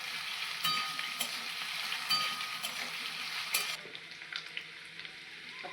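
Kabuli chickpeas cooked in the vegetarian style without onion or garlic fry in a pan, giving off a steady bright sizzle broken by occasional clinks of a spatula stirring, then settling into a quieter hiss.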